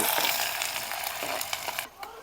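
Onions crackle and sizzle in hot oil, a dense hiss close by with a few soft stirring clicks before it briefly quiets.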